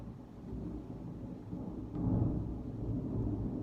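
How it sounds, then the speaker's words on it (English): Low thunder from a lightning storm rumbles faintly at first, then swells into a heavier, deeper roll midway that lingers to the end, distant and muffled with no voices. "oh my God, there's lightning."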